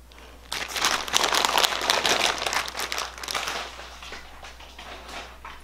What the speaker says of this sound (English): you will open up the freezer bags and take out the quart size or sandwich size